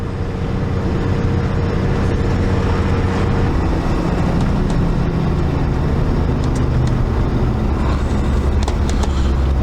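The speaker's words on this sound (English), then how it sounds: "Certainly a lot more traffic out here than what there is out Herberton Way" Road traffic passes continuously on a road near Kuranda, a loud, broad rumble of vehicle engines and tyres that stays steady from start to finish with no talking.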